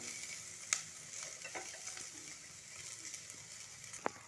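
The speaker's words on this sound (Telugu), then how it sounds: "చూడండి ఇటు వరకు కొంచెం ఆయిల్లో ఫ్రై చేసుకోవాలి" Quiet sizzling of food frying in oil in a pan until browned, with occasional stirring clinks and scrapes.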